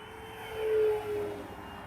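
An FMS F4U Corsair 1700mm RC model plane flies past as a faint, steady engine hum over outdoor background noise, swelling briefly as it passes.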